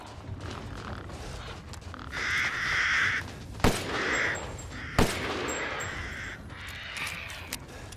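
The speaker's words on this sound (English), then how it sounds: "Stinking crows, man" Crows caw in the Resident Evil Village video game, harsh calls rising over a dim ambient game bed, with two sharp loud impacts cutting through the middle.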